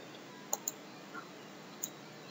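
Sparse, quiet computer mouse clicks during a VirtualBox install on Windows 10, a few single and double clicks spread out over a low steady hiss, with no talking.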